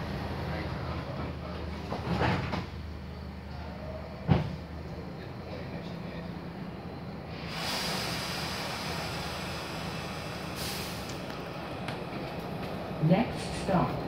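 Doors close on a SEPTA Broad Street Line Kawasaki subway car, heard on board: a steady rumbling drone broken by a few thumps and hissing bursts, with a recorded voice announcing.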